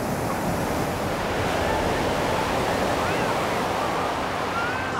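Steady ocean surf rolling onto a Big Island beach in Hawaii at sunrise, a continuous loud wash of breaking waves with some wind noise across the microphone, no voices.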